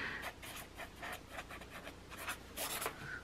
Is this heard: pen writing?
yes